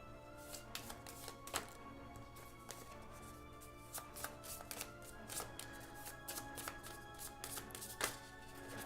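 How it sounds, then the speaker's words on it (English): Marvel Legendary game cards are shuffled by hand, giving a quiet run of soft riffling flicks and taps close by, with no voices. "Let's shuffle this up a little bit."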